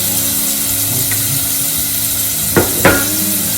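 Venison frying in a pan over slightly lowered heat gives a steady, loud sizzle, broken near the end by a couple of sharp scrapes and knocks as the food is stirred.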